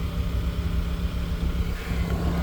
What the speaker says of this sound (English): I have my little vent window cracked so you can kind of hear the generator out there